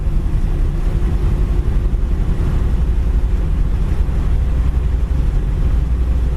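A 1959 Ford Fairlane retractable with a two-speed transmission cruising down the road at about 55 to 60 mph, giving a steady, loud low-frequency road and engine rumble with wind roar throughout.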